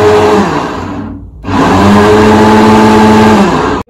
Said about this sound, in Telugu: 1 గ్లాసు షుగర్ని మిక్సీ పట్టేసుకుందాం.